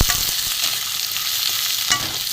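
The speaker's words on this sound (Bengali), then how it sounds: "রসুন পেঁয়াজ আলু একটু ভালো করে ভেজে নেব।" Garlic, onion and potato sizzle steadily in hot oil for a short stretch, with a spatula scraping and stirring at a couple of points and no talking.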